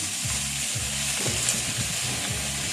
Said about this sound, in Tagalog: Magisa na ang aking bawang at sibuyas. So, ilagay na natin yung ating hipon.